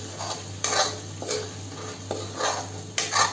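A spoon scraping and stirring yogurt-based masala cooking in oil in a pan, with repeated scraping strokes and a soft sizzle underneath, close and clear with no talking.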